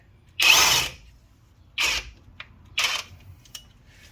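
A 24 volt max Kobalt cordless impact gun working an 18 mm nut on a Chevy Cobalt's shock tower, three loud close bursts of rattling hammering with short pauses and faint clicks between.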